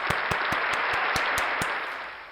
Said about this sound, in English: Let's give each other a round of applause.